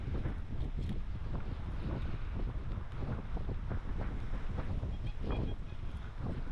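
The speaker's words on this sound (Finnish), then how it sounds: "En tiedä, kuuletteko, tuuli on melkoinen nyt." Strong wind buffets the microphone outdoors in a farm field during metal detecting, a constant loud roaring rumble with gusty swells throughout and faint detector tones near the end.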